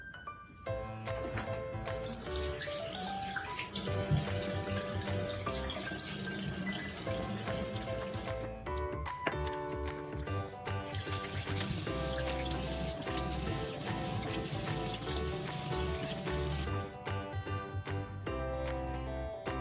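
A bathroom tap runs steadily into a sink during face washing, a continuous close splashing stream with small shifts as hands move through the water, no speech.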